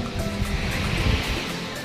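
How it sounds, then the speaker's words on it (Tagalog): Strong storm wind and surf at sea near Isla Rancho, a steady loud roar of wind and crashing waves filling the whole stretch without pause. "Napakalakas ng hangin at alon."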